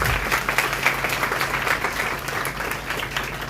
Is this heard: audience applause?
yes